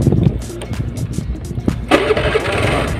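A Honda Vario 110 carbureted scooter engine starts on the electric starter in one go, a brief churn catching into a steady idle close by, with no talk over it.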